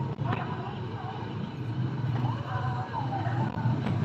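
Vehicle packed full of goods idles in stalled traffic on a hot, rainy day. A low, steady engine rumble continues throughout, with muffled street noise around it.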